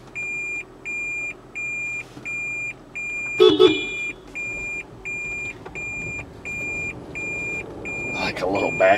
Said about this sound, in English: Like a little backup beeper.